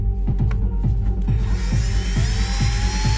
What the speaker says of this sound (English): Now we can start drilling the holes.